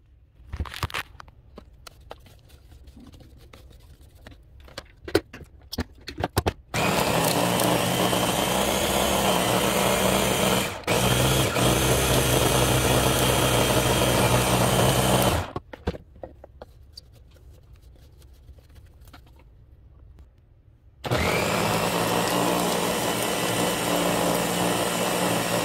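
A blender grinds peanuts into homemade peanut butter in loud, continuous bursts, switching on and off with quiet rattling and handling noises in the pauses between runs.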